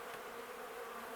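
Honeybees buzzing steadily around an open beehive during a hive inspection in an apiary, a dense, continuous swarm drone close by with no voices.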